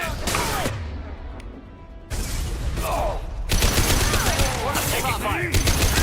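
Gunfire in a Mass Effect 2 firefight on Illium, with bursts of rapid shots and impacts in clusters, a pause, then louder sustained fire, with game voices calling out between shots.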